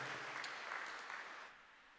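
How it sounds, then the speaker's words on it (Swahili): Church congregation applauding during a Swahili sermon, a dense steady wash of many hands clapping together at moderate distance, fading slightly toward the end with no talk over it. "mpigie Bwana makofi mengi ya shangwe"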